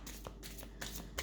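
Tarot cards being shuffled, several brisk riffling bursts of paper cards repeating close by against a low steady hum, with no talking.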